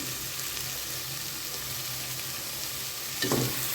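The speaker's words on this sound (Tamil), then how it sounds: "தக்காளியெல்லாம் நல்லா குழஞ்சி வெந்து வரணும்." Tomatoes frying in a pan for egg biryani while being stirred, giving a steady close sizzle and hiss, with a brief louder scrape of the spoon near the end.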